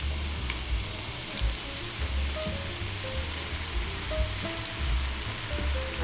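Shrimp frying in a pan for a coconut milk dish, a steady broadband sizzle with a faint hum, close and moderately loud with no talking.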